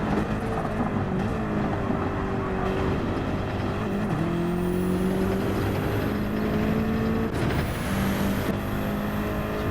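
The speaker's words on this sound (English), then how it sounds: "So Jiang's closed in a little bit on the back of my car." A race car engine in a Gran Turismo 7 Nations Cup online race holds a loud, continuous whine. It drops and climbs in pitch through gear changes as the car brakes and accelerates.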